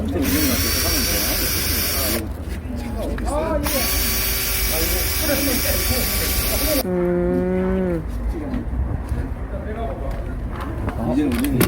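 A power drill whirs in bursts as it drives long screws through a camper van door to mount a digital door lock, its pitch rising and falling as the screws seat, with people talking close by.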